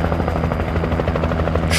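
A Black Hawk helicopter in the video game Alan Wake Remastered gives off a loud, continuous rotor drone with a rapid pulsing chop throughout, close and unbroken.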